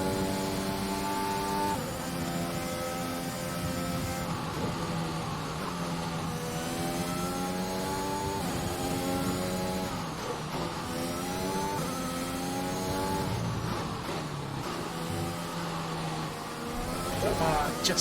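A Formula 1 car in the F1 2021 racing game at the Dutch Grand Prix holds a steady high-revving engine whine, rising and dropping with gear changes, with a driver talking over it throughout.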